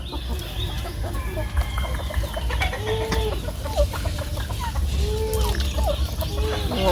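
Backyard chickens cluck and murmur nearby over a constant rumble of outdoor background noise, with a couple of short, rising calls standing out partway through.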